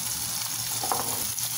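Onion sizzling in two spoonfuls of olive oil at the start of a meat sauce for baked pasta, a steady, close, dense frying hiss that carries on throughout with no talking.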